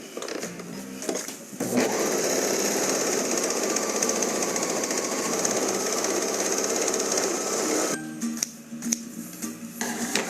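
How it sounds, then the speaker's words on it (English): A serger sews along a fabric edge, starting up with a loud, fast, steady mechanical whirr and chatter for several seconds, then stopping with a few short clunks afterward. "now I'm just going to serge along the other edge."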